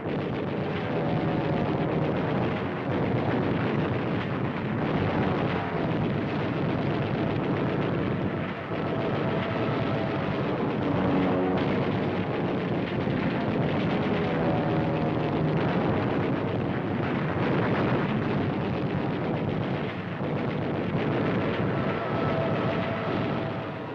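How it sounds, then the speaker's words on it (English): Wartime naval combat with explosive shells pounding ships: a continuous loud, dense roar of blasts and rumbling fire, broadband and sustained throughout with no pauses. "Ship after ship is pounded by explosive shells poured into them in fiery streams of destruction."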